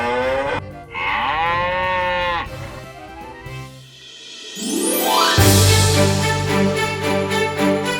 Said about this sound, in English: I got mooed off stage.